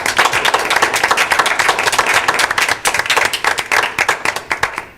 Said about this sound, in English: Can we give a round of applause for the group?